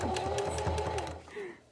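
A sewing machine stitches an accessible attachment onto a fabric mask in a quick, steady mechanical run up close, then slows and stops near the end.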